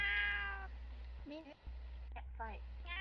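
A cat lets out several short meows in quick succession, close and moderately loud, with a faint background hum between the calls.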